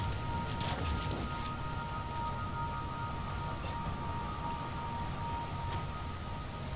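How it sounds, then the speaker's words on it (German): Harmful rain falls in No Man's Sky as a steady, dense hiss of raindrops with scattered brighter spatters and a low rumble beneath, continuous throughout and without speech. "Schädlicher Regen, ja, wunderbar, genau das."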